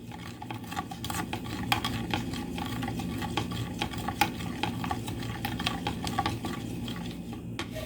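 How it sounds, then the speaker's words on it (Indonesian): A spoon stirs a pudding mixture of sugar and sweetened condensed milk in a pan, making a steady stream of close scraping and clinking strokes that runs without pause. "Aduk-aduk sampai gulanya larut, baru dimasak ya."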